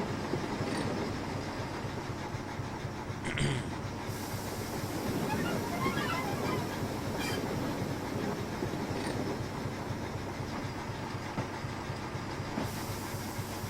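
A train hauling wagons rolls along in a steady, continuous rumble with hiss. Faint clicks and knocks come and go over the drone.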